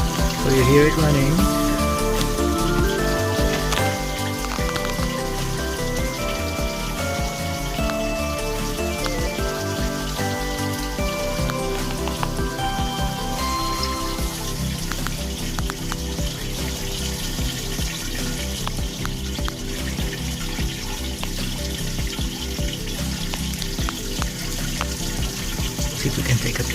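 Water runs through a hydroponic indoor garden system in a steady, continuous trickle at moderate level, mixed with sustained tonal background sound.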